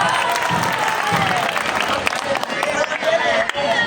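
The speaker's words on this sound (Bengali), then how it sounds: "হাততালি হবে।" An audience at an ideal school event claps together, uneven bursts of hand-claps mixed with crowd murmur and some voices talking over the applause.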